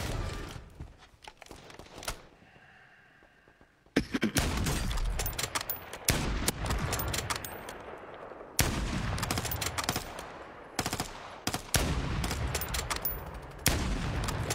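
Rapid bursts of video game gunfire, including SMG-style automatic fire, crackle loudly in several clusters after a brief quiet stretch, with repeated volleys and single shots.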